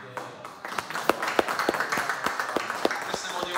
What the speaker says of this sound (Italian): Questo è motivo d'applauso